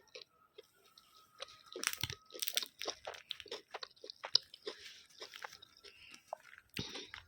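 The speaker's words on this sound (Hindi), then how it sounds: "सबसे पहली बाइट जो है वो अब मैं खाने वाली हूँ।" Smoky chicken angara tikka boti bitten and chewed up close, with crisp crunches and moist squishy chews in an uneven run of bursts and quiet gaps, no talking.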